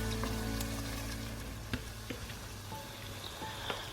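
Spices, onions and tomatoes fry together in a pot over a flame for a steady, dense sizzle, broken by a few soft stirring knocks.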